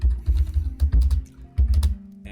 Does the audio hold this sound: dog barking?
no